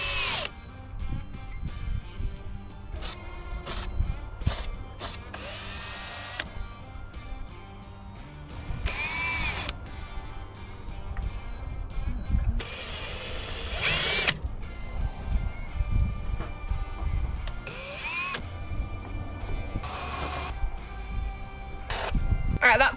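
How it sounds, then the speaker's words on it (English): A handheld power drill drives screws in repeated short whirring bursts at an outdoor camp setup for a Land Rover Discovery, with speech around the drilling and occasional clanks of parts being handled. "I'm learning how to use the drill now"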